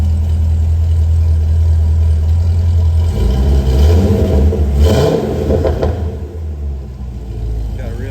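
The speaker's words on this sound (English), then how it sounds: "Give it a couple light revs because the car's still pretty cold." A 2012 Corvette C6 Grand Sport V8 idling cold, then given a couple of light revs that swell and fall back to a deep, loud, close-up idle rumble.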